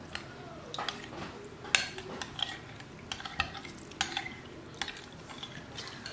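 Close, steady stirring of liquid with soft clinks of a utensil against a bowl, irregular scraping strokes continuing for several seconds while hand sanitizer is mixed.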